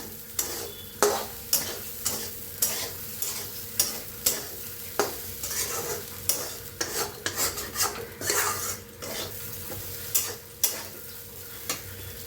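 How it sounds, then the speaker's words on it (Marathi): Spoon stirring thick pithla, a spicy Maharashtrian gram-flour dish made from ground dal, in a pan on low heat, with regular scraping strokes over a soft sizzle and no talking. "आता एकदम मिक्स करूया."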